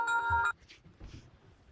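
A telephone ringtone sounds close and clear for about half a second, a bright electronic trill that cuts off abruptly, followed by faint rustling and soft movement.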